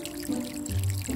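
Water poured from a small container onto a potted jade plant in a cartoon scene, a soft steady trickle that is fairly faint and close, with no voices.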